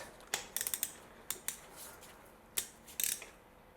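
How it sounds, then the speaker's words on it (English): Ratchet wrench clicking while checking spark plugs on a Honda Jazz engine: short bursts of sharp, close mechanical clicks, a quick cluster then a few spaced ratchet strokes, fairly quiet with no talking. "Now if I just check them with my ratchet,"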